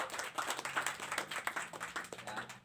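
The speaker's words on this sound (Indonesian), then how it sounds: "Tepuk tangan buat Taufik." An audience at a tourism forum about the Batu Jai Dam in Central Lombok claps for a speaker: modest, fairly quiet applause from a small group, with uneven individual claps over a couple of seconds.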